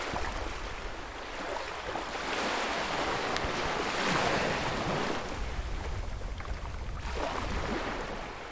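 Ocean waves wash onto the shore in the video game Caligo, a steady surf rushing that swells and eases, moderately loud with no voices.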